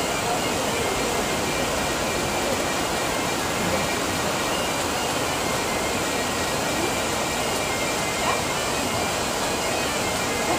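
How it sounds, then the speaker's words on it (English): A waterfall in Ireland pours in a dense, steady roar of rushing water, loud and unbroken throughout with no clear voices. "Go to the waterfall."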